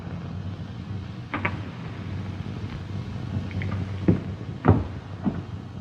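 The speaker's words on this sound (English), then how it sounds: "close the door behind you" A door swings shut in a 1935 Western film scene, a few soft wooden knocks and a latch click standing out against quiet room tone, with no one speaking.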